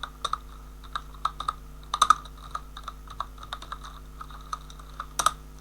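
Keystrokes on a computer keyboard as a message is typed into ChatGPT, a steady run of light, close clicks with small bursts of faster presses, heard alone with no talk.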